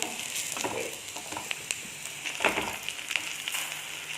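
Ingredients sautéing in a pan for a dates curry, a steady close sizzle broken by scattered stirring scrapes and light clicks.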